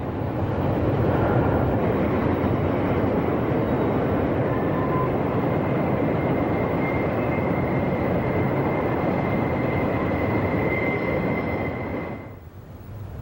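A train passes on the Pittsburgh Line along a river, a loud steady rumble and roar of rail cars sustained for about twelve seconds with a faint tonal whine, then easing off at the end; no voices.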